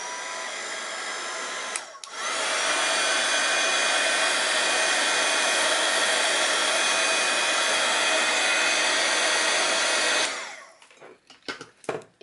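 A heat gun drying scrapbooking embellishments roars steadily and loudly for about eight seconds, then cuts off, followed by a few faint handling clicks.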